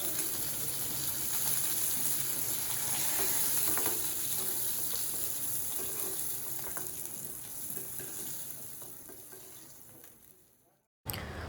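Fish coated in turmeric, chili and salt frying in a pan, a steady close sizzle and crackle that slowly fades before a sudden brief silence and a return of sound at the end.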